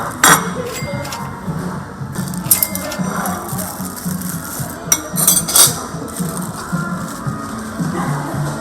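Plastic-sealed packs of plates and spoons from a BonChon fried chicken delivery being torn open and handled, with bright clinks and crinkly rustles in bursts close by over steady background noise.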